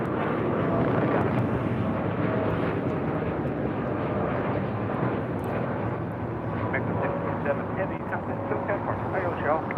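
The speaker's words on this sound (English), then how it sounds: "It's a 787-8 Dreamliner, flight 647 with Aeromexico." An Aeromexico Boeing 787-8 Dreamliner departs LAX, its jet engines a loud, continuous broad roar sustained for nearly ten seconds, with voices talking over it.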